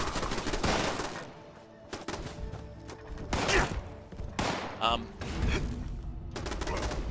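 Gunfire from defensive turrets in Fallout 76, rapid bursts of shots and impacts crackling over a busy game soundscape, with a person talking at times.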